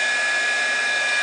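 A heat embossing gun blows hot air over a card. It gives a continuous, close hair-dryer-like whoosh with a steady high whine and no breaks.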